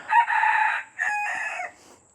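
A rooster crows in a chicken coop, two close, loud drawn-out calls in quick succession with a short gap between, and no talking.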